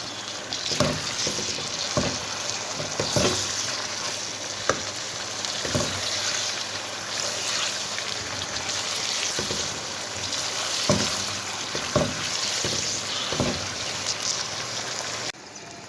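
Mutton sautéed in a pan for the nihari, a continuous loud sizzle with repeated spoon-scraping stirs every second or so, close up and without voices.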